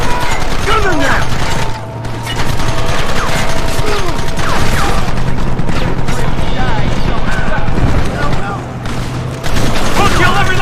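Red Dead Redemption gameplay: loud, dense gunfire with repeated shots and booms over a constant roar of battle, while voices shout through the action.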